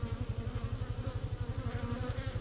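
Honeybees buzz inside a Texas hive while killing a spider, a close, steady pulsing drone with a regular throb and no talk.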